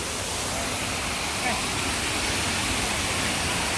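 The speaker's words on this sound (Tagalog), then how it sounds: "Tat Plakang Waterfall" Tat Plakang Waterfall roaring as a steady, dense wash of broadband noise, close and constant throughout with no break.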